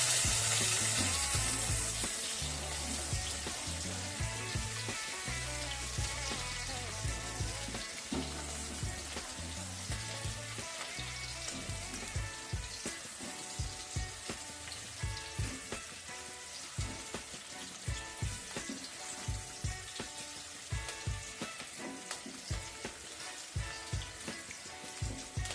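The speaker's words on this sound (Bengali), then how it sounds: "পেঁয়াজটা একটু ভাজা হলে সব সবজিগুলো দিয়ে দেবো।" Vegetables and onion frying in hot oil for fried rice, a strong continuous sizzle with repeated scraping and stirring clatters growing more frequent toward the end, heard close and without speech.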